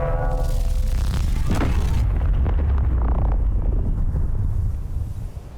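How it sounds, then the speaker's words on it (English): A railgun fires a Large Railgun Sabot in the Space Engineers video game, a loud booming blast with a rushing, roaring crackle that rolls on for several seconds and then fades. "let's just take a look here and see what it looks like when we fire it."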